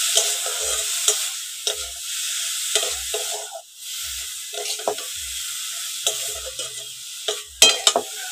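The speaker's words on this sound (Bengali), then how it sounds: "এইবার আমি এগুলোকে ভালো করে নেড়ে চেড়ে মিশিয়ে নেবো।" A spoon repeatedly scrapes and stirs vegetable chop filling with chaat masala in a sizzling pan, giving rhythmic strokes roughly every second over a constant close frying hiss.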